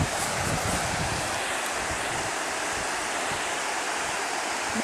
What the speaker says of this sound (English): 6 to 8 inches of water going across the road here